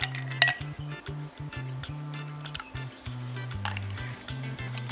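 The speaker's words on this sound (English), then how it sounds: "so now I'm going to add some ice cubes." Ice cubes clinking into a glass of beetroot lemonade, several bright close chinks at the start followed by scattered lighter clinks, over a steady low electrical hum.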